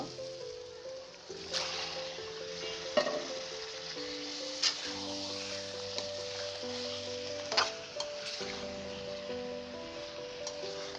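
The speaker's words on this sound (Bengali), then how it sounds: "মাংসটা কষানো হচ্ছে" Chicken being sautéed in spices and tomato for a spicy curry, a low continuous sizzle with periodic scrapes and knocks of a stirring spoon against the pan.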